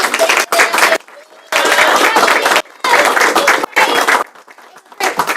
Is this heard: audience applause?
yes